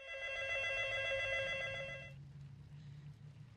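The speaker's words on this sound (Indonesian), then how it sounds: "tak lama kemudian telepon berdering" A telephone rings steadily with a bright electronic tone for about two seconds, then stops, leaving low room noise.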